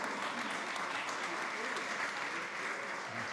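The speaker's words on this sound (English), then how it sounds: "Please give him a huge round of applause" Steady round of applause from a conference audience at a SXSW fireside chat, a continuous wash of many hands clapping at moderate volume throughout.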